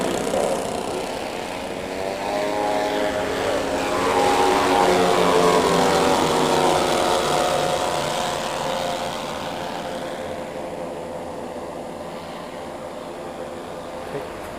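A large model Boeing B-17 Flying Fortress with propeller engines flies at an Aberystwyth display, giving a loud, steady multi-engine drone that swells and then slowly fades over about fifteen seconds.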